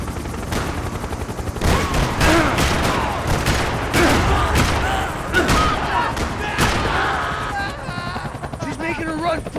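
Max Payne 3 gunfire rattles in rapid, loud bursts over a helicopter's steady thrum. Shouting voices break in between the volleys.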